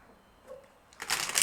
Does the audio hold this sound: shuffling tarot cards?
yes